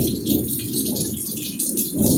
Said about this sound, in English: Oh yeah, it is pouring.